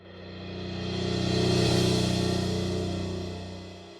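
A smooth swell of reversed piano and cymbal rises slowly, peaks, then fades back down, washed in heavy reverb.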